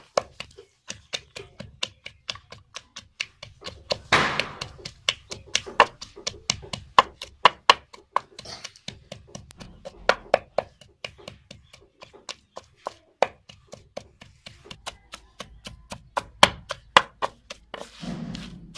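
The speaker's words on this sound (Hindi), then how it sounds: "अभी बादाम डालेंगे और इसको भी अच्छी तरह कूट लेंगे" Almonds being pounded by hand for thandai, likely in a mortar after poppy seeds: a long run of sharp, rhythmic thuds and taps, close and fairly regular, with brief pauses and a few heavier strikes.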